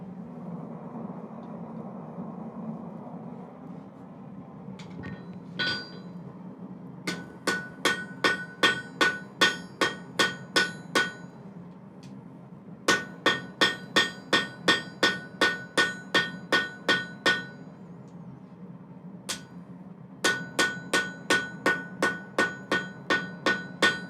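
A hammer flattens hot metal on an anvil at a forge, striking in quick rhythmic bursts of about eight to ten ringing blows with short pauses between, loud and close against a low fire roar, with no talking.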